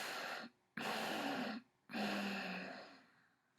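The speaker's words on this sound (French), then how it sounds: "Prends une autre grande inspiration, très profonde et plus lente. Bloque. Expire en 3 fois." Three audible exhales of a yoga breathing exercise push out in separate parts, breathy and close, with brief silences between them and the last one trailing off slowly.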